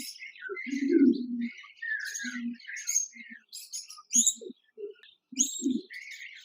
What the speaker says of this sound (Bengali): এখানে দেখতে পাচ্ছেন একজোড়া জেব্রা ফিঞ্চ পাখি রয়েছে